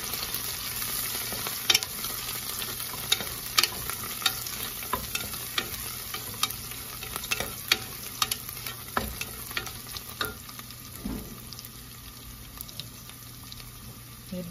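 Vegetables, chilies and coriander sizzle in a pot for little millet vegetable biryani while being stirred, with a quiet steady frying hiss and frequent light scraping clicks of the spoon, no talking.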